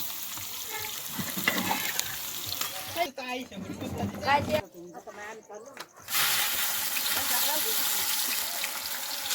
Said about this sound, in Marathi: मस्त कांदा फ्राय शॉर्ट नाही लॉंग आहे